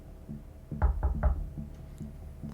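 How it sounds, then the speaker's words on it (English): Three firm knocks land in quick succession on a door or hard surface during a tabletop Vampire: The Masquerade session, loud and close, followed by quieter, faint taps. "Is it a knock?"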